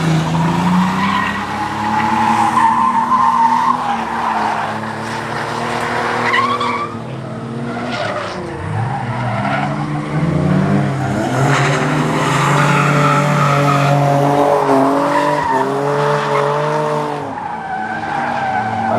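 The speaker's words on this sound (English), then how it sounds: "I'll show you guys a bit of Cheech driving" A drift car slides around a track, its engine revving hard and steady while tires squeal in long, wavering howls that rise and fall throughout, loud and close with no talking.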